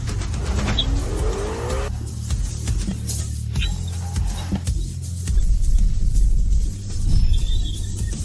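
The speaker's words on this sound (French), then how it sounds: "du dérapage contrôlé" A car drifts through a controlled skid, its tires squealing in long strained bursts over a steady engine drone, close and loud, with no talking.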